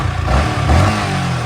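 A 2018 Yamaha YZF-R15 motorcycle with its stock engine revs up loudly nearby, a steady throaty drone swelling twice in short pulses with no talk over it.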